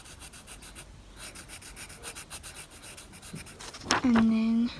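A pen scratches and rubs across paper while drawing a nut, in a run of short, close strokes, followed by a brief voiced tone at the end.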